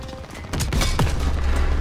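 A few quick bursts of gunfire and booms from Call of Duty WWII, a World War II shooter, close and loud, over a rumbling background.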